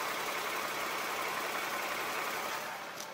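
A Toyota Sienna's 3.5-litre gasoline engine idles with the bay open, a smooth, even, steady hum heard up close with no voices over it.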